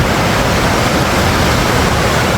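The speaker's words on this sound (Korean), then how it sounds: "아, 이 폭포 아주 이쁘게 잘 돼 있네요." A waterfall beside a wooden-deck walking trail at Suju Palbong in Chungju gives a steady, dense roar of falling water, close and unbroken throughout, with no voices.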